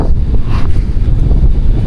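Strong wind buffets the microphone at a beach campsite, a loud, continuous rumbling roar with gusty surges throughout.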